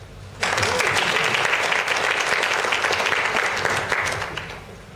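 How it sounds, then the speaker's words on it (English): After a brief quiet moment, a Toastmasters audience bursts into full, sustained applause for a speaker, holding at a steady level before tapering slightly near the end. "Let's have a round of applause."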